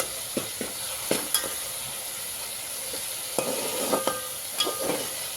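Mutton curry sizzles in oil in a pan, a soft continuous crackle broken by several sharp stirring scrapes and clinks scattered through, close and fairly loud.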